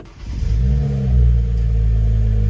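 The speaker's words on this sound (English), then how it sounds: "let's just go ahead and start the car" BMW 335xi all-wheel-drive with a six-speed manual gearbox starts up and revs, its engine settling into a loud, close, steady rumble with a swell in the middle, running without its airbox.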